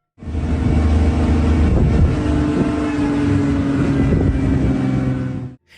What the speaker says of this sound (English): The forest echoed with the sounds of the car's engine